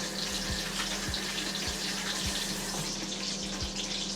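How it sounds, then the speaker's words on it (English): Hands washed under a running kitchen tap while cooking, with steady splashing water filling the clip and a soft repeating low thump beneath it, no talking. "let me wash my hands."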